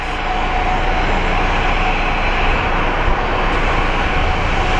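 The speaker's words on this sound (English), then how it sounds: "we have our roll for the Denver flight" Airliner on its takeoff roll at Phoenix Sky Harbor, bound for Denver: a loud, steady roar of jet engines holding at full power throughout, close and unbroken, with no talk.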